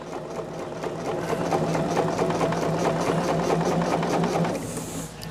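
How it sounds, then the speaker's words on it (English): A sewing machine machine-binding a quilt runs steadily and close, its needle producing a continuous fast mechanical chatter with a low motor hum underneath, and no one talks. "I do machine bind everything that I do."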